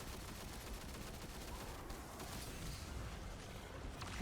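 Rapid machine gun fire in Destiny 2 during a Chamber of Starlight lost sector fight, a continuous dense rattle of shots mixed with game combat noise, faint and without voices.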